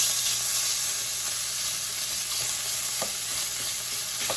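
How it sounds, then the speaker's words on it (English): Bacon sizzles and fries steadily in a hot pan while being stirred with a spoon for fried cabbage, a continuous close hiss broken by a few faint scraping clicks. "Got the pan hot and put some bacon in."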